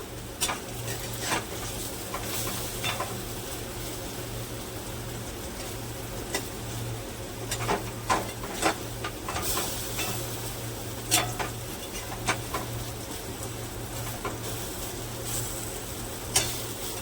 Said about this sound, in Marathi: हे असे खालीवर तेलात नुसते वापून घेतलेले आहे